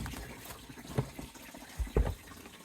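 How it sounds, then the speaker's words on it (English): Water running into an attic cold water storage tank through a ballcock float valve, a soft steady flow broken by a couple of slightly louder splashes. "The water's filling now"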